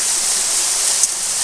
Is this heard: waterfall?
yes